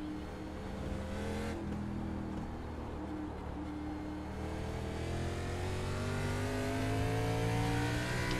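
An ARCA race car engine in the iRacing simulator at Suzuka revs and climbs steadily, a sustained mid-pitched drone with rising harmonics and brief shifts, heard alone without talk.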